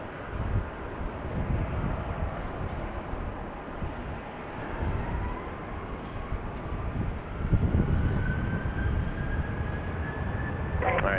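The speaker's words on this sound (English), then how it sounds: "Southwest 2362, Arnett Berry, runway 31 right, clear for takeoff" A Southwest Airlines jet takes off from runway 31 right at Dallas Love Field, a broad engine roar that holds steady and swells slightly over eleven seconds, heard from a distance outdoors.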